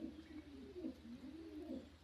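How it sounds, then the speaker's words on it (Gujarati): A pigeon inside a well coos softly and repeatedly, low throaty calls rolling in a steady rhythm over a faint background hum. "અંદર કબૂતર પણ છે, જુઓ ત્યાં કબૂતર છે"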